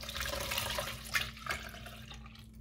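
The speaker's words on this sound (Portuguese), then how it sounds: "Vou colocar 1 litro de leite," Milk, one litre, pours into a bowl while making bread pudding, a steady liquid splashing and gurgling that runs throughout, near and fairly soft, with no talk.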